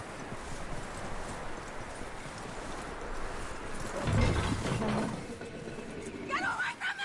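Hooves clip-clop at a steady walking pace in Red Dead Redemption 2, briefly louder midway, with a voice speaking near the end.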